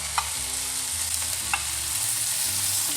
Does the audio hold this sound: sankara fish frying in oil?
yes